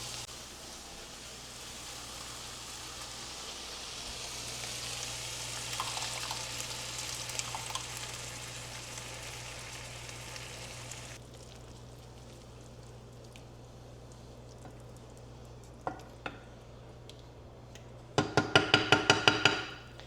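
Seasoned meat sizzles steadily in a hot pan for a tomato-sauce dish, a dense, close hiss that later thins out, ending with a quick burst of clattering as the pan is tossed.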